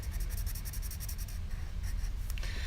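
Pencil shading back and forth on sketchbook paper while darkening block 3D letters, a steady close scratchy rasp of repeated strokes with no voices.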